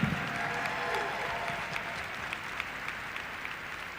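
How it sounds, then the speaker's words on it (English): Audience applause at the 2023 UNHCR Nansen Award ceremony as a performer is welcomed on stage, a steady, dense clapping from a large crowd that holds at an even level for the full stretch. "a big round of applause for Miyavi"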